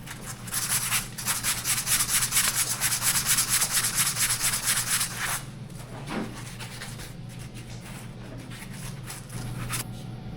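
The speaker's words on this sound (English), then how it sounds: "we have to make sure that we get this sanded down too" A turkey quill fishing float being sanded down, rapid rhythmic rubbing strokes, loud and close for several seconds, then stopping and giving way to faint handling noises.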